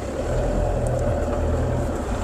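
A 2014 Mahindra Thar CRDi diesel in 4-low pulls away with a loud, steady, close engine drone. The deep rumble holds level throughout without any clear rev rise, and no one talks.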